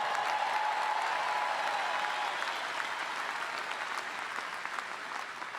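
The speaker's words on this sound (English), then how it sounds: "Maybe one special round of applause for all the mothers there" A large commencement audience at a 2019 Seton Hall undergraduate ceremony applauds, a broad, even roar of clapping that stays steady and gradually eases slightly toward the end.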